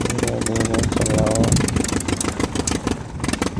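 A cartoon mini tractor's diesel engine chugs steadily as it climbs a slope, a dense rhythmic rumble running throughout, with a person talking over it.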